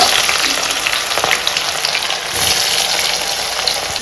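Onions fry in oil with whole garam masala, bay leaf, dried chilli and cumin for a duck curry, a loud, dense crackling sizzle close by with faint stirring and no talking.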